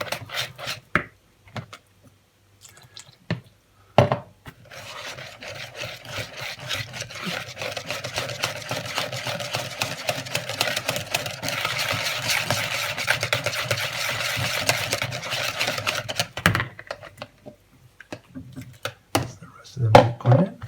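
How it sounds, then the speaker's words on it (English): Vigorous whisking of batter for toad in the hole, a rapid scraping rattle of whisk against bowl building to a sustained burst after a few scattered taps, then stopping; a person talks around it. "The whole idea here is to make sure there's no lumps, so a vigorous whisk will be needed"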